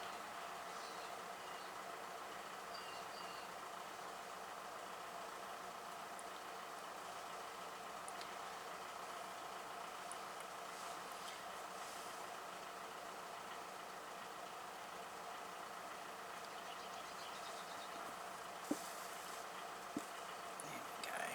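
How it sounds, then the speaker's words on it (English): Van engine idling, a faint, steady low hum running unchanged in the background throughout, with a couple of small clicks near the end. "You can probably hear the engine running in that van."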